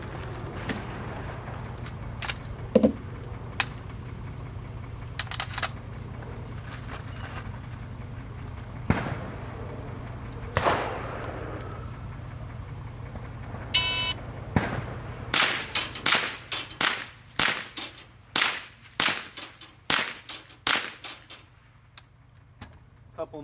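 .22 AR22 rifle shots striking steel plates during race-trainer drills, heard as a scattering of sharp reports early on, then a rapid series of about ten crisp cracks and pings near the end, close and loud.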